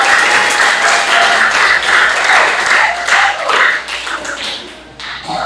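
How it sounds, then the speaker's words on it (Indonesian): Classroom of students clapping for classmates who presented, dense continuous applause with tapping claps, close and loud, fading slightly near the end. "tepuk tangan untuk teman-teman yang udah maju semua"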